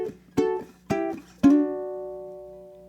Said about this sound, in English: It's going to be a double stop hit, so we're playing 2 notes at the same time.